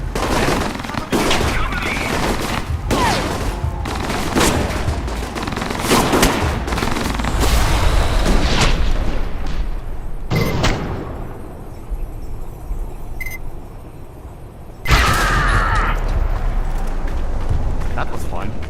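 Dense gunfire and explosions in the Alpha Protocol video game, bursts of automatic fire and heavy blasts in rapid succession, loud and near, mixed with voices talking, a brief quieter lull before another loud burst.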